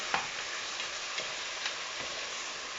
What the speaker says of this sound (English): Now we're going to stir it around to get all that brown sauce on your oxtail.